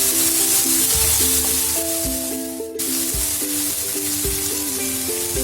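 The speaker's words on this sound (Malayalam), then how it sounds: "പച്ചമുളക്, ചില സാധനങ്ങൾ ഇട്ട് കൊടുത്ത് നമുക്ക് നന്നായിട്ടൊന്ന് വറുത്തെടുക്കാം" Green chillies and curry leaves fry in a pan for Kerala beef pepper fry, giving a steady bright sizzling hiss under sustained background music.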